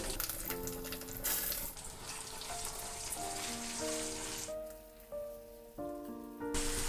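Ground toor dal chutney hits a hot tempering of dried red chilies and curry leaves in a pan, giving a steady, close crackling sizzle that runs throughout beneath a layer of background music.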